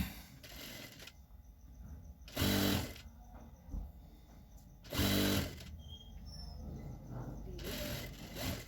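A sewing machine stitches red piping onto white ladies' pants in loud close bursts, with quieter gaps of handling between runs.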